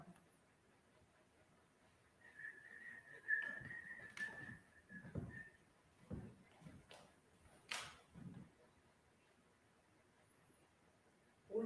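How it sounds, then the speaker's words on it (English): A faint, thin whistling tone in an old mill rises briefly and wavers for a few seconds amid a quiet room, with scattered knocks and soft murmured voices around it. "I'm hearing whistling in here."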